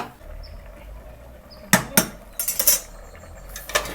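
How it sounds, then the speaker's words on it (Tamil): Metal cooker lid being closed on a one-spoon-oil biryani: two sharp clanks, then a quick rattling clatter and a final knock, close, over a quiet hum with no talking. "ஃபைனலி குக்கரை மூடிக்கலாம்"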